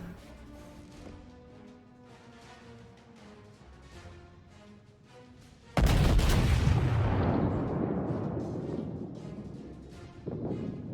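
World of Warships naval battle: a low rumbling backdrop, then a sudden heavy salvo from a Kongo battleship's main guns, a loud sharp blast that rolls away into a long fading boom.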